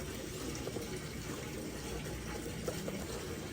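Milk, about a quarter cup, pours into a frothing cup in a steady, soft, continuous liquid stream for a few seconds with no other sounds.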